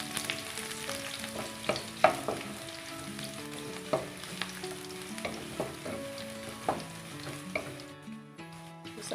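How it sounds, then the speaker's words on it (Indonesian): Garlic stir-frying in hot cooking oil for a carrot, green bean and shrimp stir-fry, a steady close sizzle broken by repeated clanks and scrapes of a utensil against the pan, with no voices. "Kemudian akan saya tumis bawang putih"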